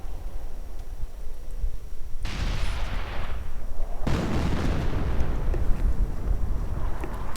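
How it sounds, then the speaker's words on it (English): Artillery fire in a World War II real-time strategy game: booming impacts with rumbling low end start around two seconds in, then a second louder barrage from about four seconds, dense and sustained to the end. "Artillery fire to harass the opponent a bit, forcing away all infantry units there."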